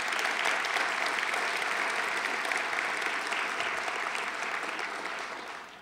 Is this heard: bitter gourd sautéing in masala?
no